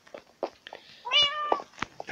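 A house cat meows several times in short, clear calls close to the microphone, with one longer drawn-out meow in the middle and quiet pauses between.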